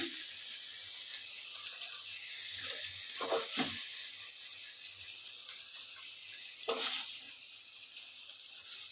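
Ghugni with chilli paste and sugar fries in a pan with a soft, steady sizzle, broken by a few short stirring scrapes and one sharper clatter, quiet and close with no talking.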